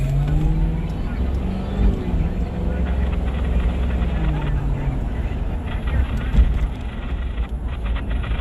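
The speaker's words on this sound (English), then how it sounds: "Cross traffic." Cars pass through cross traffic on a city street at night, heard from inside a police patrol vehicle: a continuous low rumble of engines and tyres, with voices talking throughout.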